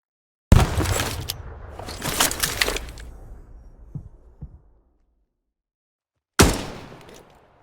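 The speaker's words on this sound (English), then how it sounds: "They're going to be pretty close if they just threw that grenade there." A grenade blast followed by gunfire in the tactical FPS Dagger Directive, a sharp loud burst that decays over a few seconds, then silence and a second sudden impact near the end.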